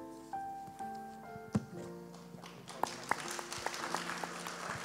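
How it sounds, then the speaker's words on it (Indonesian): A church congregation at a Pentecost worship service bursts into applause as soft sustained music tones fade. The clapping builds into a faint, scattered patter. "Thank you for your generous applause."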